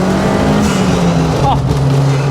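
Ford Fiesta Mk4 fitted with a Mk7 ST180 turbo engine, heard from inside under load, a steady loud engine drone with shifting pitch running throughout while people talk over it.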